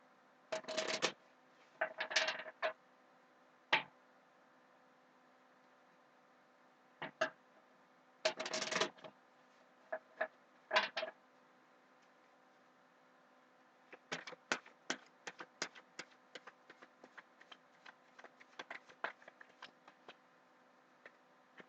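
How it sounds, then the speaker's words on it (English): Tarot cards shuffled by hand in a quiet room, irregular bursts of riffling and soft slaps in clustered groups, then a run of quick light taps and flicks toward the end, close and fairly faint with no talking. "I'm just going to shuffle in silence for a little while here."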